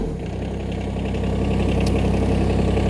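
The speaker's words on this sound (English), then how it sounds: "Just warm up for a few seconds and then start the engine." Branson 1905h 19 HP sub-compact tractor with a diesel engine idling steadily, a continuous low, even rumble with no talk.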